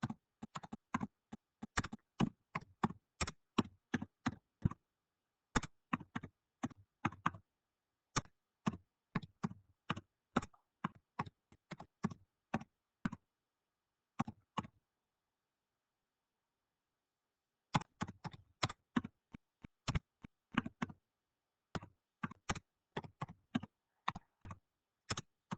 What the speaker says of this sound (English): I'll just type this here.